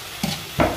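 Bombay duck fish dropped into frying masala in a pan, two short close bursts of sizzle and stirring.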